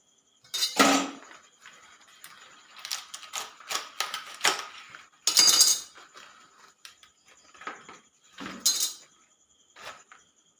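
A knife cuts through a violet cabbage on a board at close range: a series of crisp, crunchy slices in uneven bursts, with short pauses between strokes and no talking.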